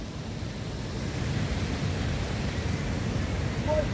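Splashing water from a fountain at KLCC in Kuala Lumpur, Malaysia, a steady broadband rush like surf that holds at a constant level throughout, with no distinct voices.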